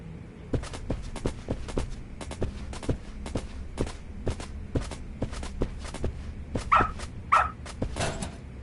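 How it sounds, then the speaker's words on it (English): Dog in the game Lost Judgment walking and barking, a regular series of sharp footstep-like taps followed by a couple of clear, close barks and a whimpering yip at the end, no speech. "Good dog. Very good dog."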